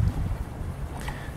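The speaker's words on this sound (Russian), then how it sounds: "Ветер уже поменялся на западный, дует с западного направления." Wind gusting over a river on a cold morning after overnight rain, now blowing from the west, a steady low rumble of buffeting air across the microphone with no talk.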